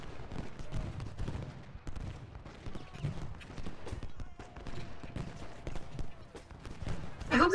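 Artillery covering fire in the Civil War strategy game Ultimate General: Gettysburg, with a steady rumble of distant cannon and musket reports, a few sharper shots standing out, and faint talk beneath.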